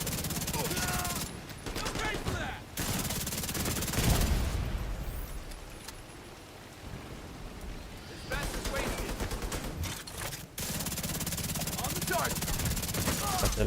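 Gunfire in The Division 2 crackles in repeated fusillades through a busy combat mix, fairly faint and continuous with brief lulls.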